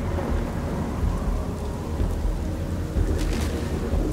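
Video game storm: heavy rain pours steadily while low thunder rumbles continuously underneath, a dense, loud ambience with no voices.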